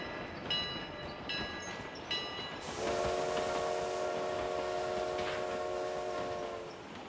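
Train in the video game PUBG Mobile: three short chime-like tones are followed by a long, steady horn blast over a continuous rumble of rail noise, which fades slightly at the end.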